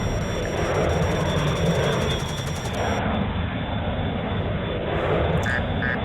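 A fighter jet engine roars steadily in a combat flight video game, a loud continuous rumbling drone with no pauses and no talking.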